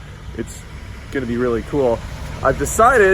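An old Cadillac's engine idles with a steady low rumble close behind a person talking over it, the hum running under the speech throughout.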